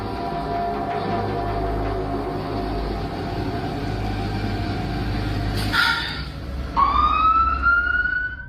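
An ambulance siren rises and wails loudly near the end, coming in over steady rumbling traffic and street noise.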